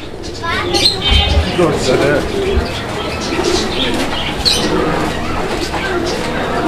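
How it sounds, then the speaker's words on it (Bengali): A pair of Dragon Hummer fancy pigeons coos softly, up close, with other bird sounds nearby, while someone talks over them throughout. "বর্তমান বাংলাদেশের অনেক জনপ্রিয় একটা ব্রিড, ড্রাগন হুমার কবুতরের একটা জোড়া।"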